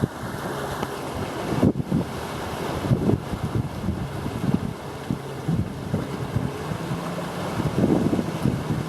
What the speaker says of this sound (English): Bloody windy down here.